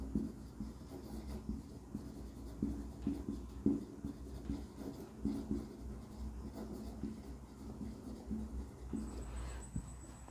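Marker or chalk scratching across a classroom board during a genetics lesson, a steady run of soft strokes at close range with no talk over it.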